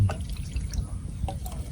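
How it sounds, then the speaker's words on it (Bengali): Water tipped out of a container in a village setting: a short, close splash and trickle with a few drips, lasting under two seconds. "পানিটা একটু ফালাই"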